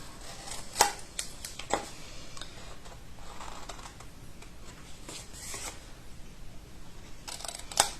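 Scissors snipping through folded scrapbooking paper for a photophore, a few sharp, close cuts spaced apart over a quiet background.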